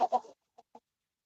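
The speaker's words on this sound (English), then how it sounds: "my chickens are all indoors or underneath the aviary, underneath cover" Backyard chickens sheltering from rain in Texas cluck close by: two quick, louder clucks followed by a soft trailing murmur, then two faint, short clucks separated by silence.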